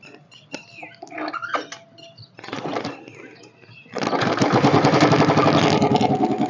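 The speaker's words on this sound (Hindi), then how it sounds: "मैं आपको इसका एक बार एग्जॉस्ट नोट सुनाने की कोशिश करता हूँ" A Royal Enfield Standard 350 motorcycle with its original silencer ticks and pops unevenly at first, then settles into a loud, steady, thumping exhaust note close by.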